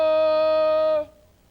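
A long, sustained, strongly pitched yell from a child, pushed out from the diaphragm as a self-defense shout. It holds loud and steady for about a second, then cuts off abruptly into near silence.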